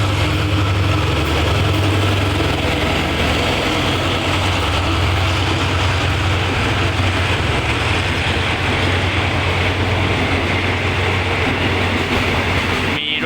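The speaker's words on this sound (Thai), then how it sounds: "ขบวน 3401 ดีเซลทำการ 4533 ครับ" Diesel locomotive 4533 of Thailand's State Railway, hauling special rescue train 3401 at Bang Sue Junction, runs with a loud, steady engine rumble and a constant low droning hum throughout.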